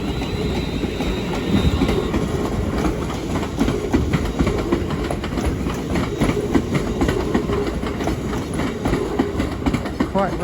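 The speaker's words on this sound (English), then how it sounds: "Departing, I should say, is the 1332 London North Western Railway says to Liverpool Lime Street" A London Northwestern Railway Class 350 electric multiple unit pulls out of Crewe station on the West Coast Main Line, its steady rumble and rhythmic wheel clatter over rail joints continuing close by, with a brief high squeal early on.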